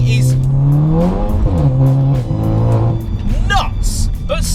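A 420 bhp front-wheel-drive Seat Leon Cupra with a DSG gearbox pulls hard, its engine note climbing and dipping through shifts, with brief tyre chirps near the end and someone talking over it.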